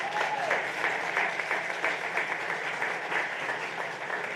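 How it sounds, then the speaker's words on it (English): A fashion show and auction audience applauds its board of directors with steady, moderately loud clapping that holds evenly throughout, with a few cheers woven in. "Give our board of directors a big round of applause"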